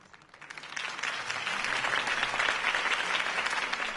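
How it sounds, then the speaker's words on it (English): A crowd in the Batman Telltale Series video game bursts into applause that swells within the first second and keeps going steadily, full and fairly close. "If only Mr. Wayne, my campaign's largest backer, could have heard that applause"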